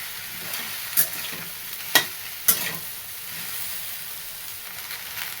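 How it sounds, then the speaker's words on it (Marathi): Okra (bhindi) stir-fried over a high flame, a steady close sizzle with three sharp spatula scrapes against the pan in the first few seconds, then continuous frying with no talk. "चांगलं एकच नंबर परतून घेऊया"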